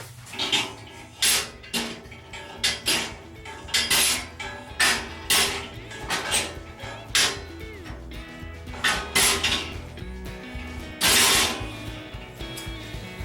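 Grandfather's old chisel shears welds off a metal chair base with repeated sharp metallic strikes and scrapes, roughly one every second, loud and close with ringing clanks and no talk.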